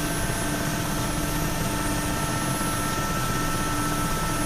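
Mi-8 helicopter flying in the DCS flight simulator game, a steady, loud rotor and turbine drone with constant whine holding evenly throughout, no voices.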